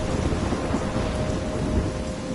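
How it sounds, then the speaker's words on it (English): Dense steady rain pours and a low thunderous rumble rolls through a storm in the Life is Strange video game, with a continuous loud wash and no voices. "I'm trapped in a storm?"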